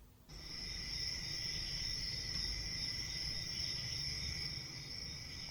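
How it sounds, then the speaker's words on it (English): Steady insect-like crickets chirping in a continuous high trill, used as a comic silence gag, constant and fairly loud from the start with no other sound. "Crickets."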